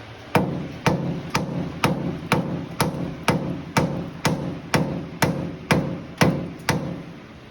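Sharp metallic hammer blows on the mounts of a 1979 Ford F100 land at a steady, even pace, about two per second, close and ringing, with no voices.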